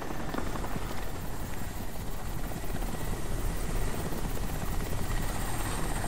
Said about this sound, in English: Psycho, can you track that helicopter?